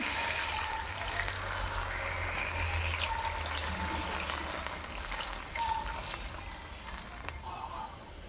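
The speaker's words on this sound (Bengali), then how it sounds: "এবার দিয়ে দেবো পানি" Water gushes steadily into a pan of rohu fish curry with cauliflower and potato for several seconds, a continuous splashing pour that cuts off near the end.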